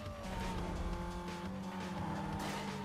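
Racing cars in Need for Speed Most Wanted roar through the first turn during a race against a blacklist rival, one overtaking another, with a steady layered engine drone and tonal whine running close and loud throughout.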